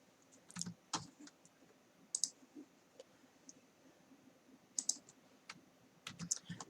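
Quiet, close keystrokes on a computer keyboard while Python code is typed, coming in short irregular bursts of clicks with gaps between them.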